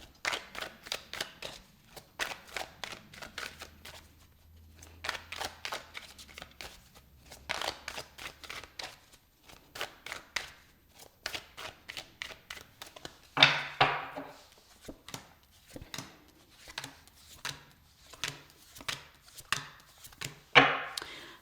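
A deck of tarot cards is shuffled in repeated bursts of riffling and tapping, close and fairly quiet, with short pauses between rounds and no talk.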